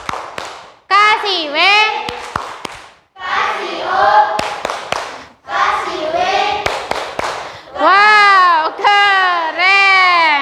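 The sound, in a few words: classroom applause for a student group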